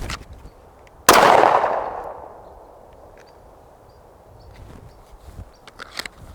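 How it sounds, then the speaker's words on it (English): A single close, sharp gunshot of a 124 grain round fired at body armor from 3 yards, a loud crack with a ringing decay, then quiet with faint shuffling and small knocks. "We'll do one shot, 3 yards with 124 grain."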